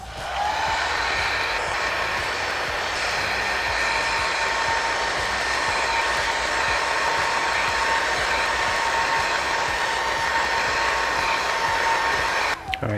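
A heat gun running on low setting warms an adhesive tank grip pad for a 2015+ Yamaha YZF R1, giving a steady, loud airy roar that holds unbroken for the whole stretch and cuts off at the end.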